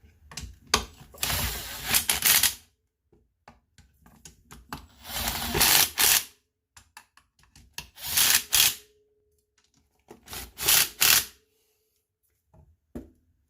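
A torque wrench snugs down bolts on a Hayward Super Pump motor during a rebuild on a workbench, producing several loud bursts of rapid ratcheting clicks separated by short pauses and small handling taps.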